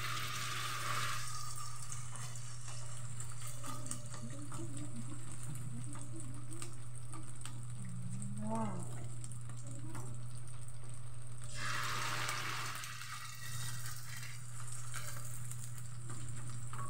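Ukoy, shrimp and squash fritters, fry in hot oil with a steady, loud, continuous sizzle throughout, broken by brief stirring and a short watery splash near the end.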